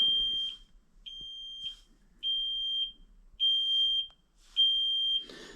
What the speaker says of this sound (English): I'm gonna unhook that freaking beeper too. Driving me nuts.